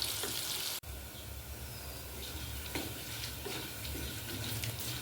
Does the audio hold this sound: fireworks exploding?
no